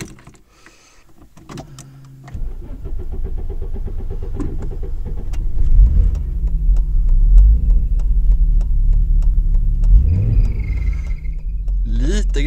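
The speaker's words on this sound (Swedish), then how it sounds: "Om jag försöker varva lite, då gnisslar remmen." A car engine cranks and catches, then runs with a deep rumble while a worn fan belt squeals intermittently, sharpest as the engine is revved; someone talks over it close by.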